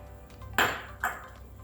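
A couple of sharp clinks of a utensil against a bowl while granola ingredients are mixed with peanut butter, two distinct strikes in otherwise quiet surroundings.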